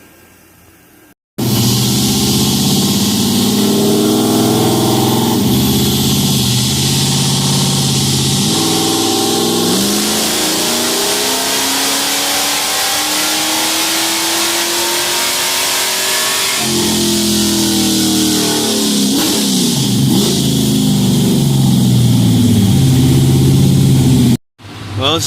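A Dodge Dakota RT with 1.75-inch long-tube headers and no mufflers revs hard on a dyno, a loud roaring pull climbing steadily in pitch, then easing back down before cutting off, heard up close.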